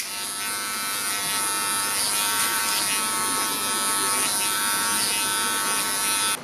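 Wahl electric hair clippers with a number 1 guard blend hair during a barber demonstration, giving a steady, close, high buzz that holds evenly throughout, with slight changes as the blade moves.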